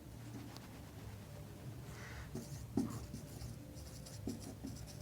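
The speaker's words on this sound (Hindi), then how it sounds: "मैं यहाँ लिखता हूँ कि" Handwriting during a practice class: faint, intermittent pen scratches and taps over a steady low hum, with a couple of slightly sharper strokes near the end.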